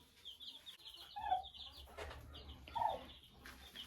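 A brooding hen clucks among her chicks in a farmyard coop, with soft repeated clucks and faint high peeps from the chicks over low background noise.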